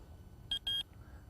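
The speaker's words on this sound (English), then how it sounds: "Buzzer on" Carp fishing bite alarm buzzer giving two short electronic beeps, the second longer, fairly faint and close with no talk.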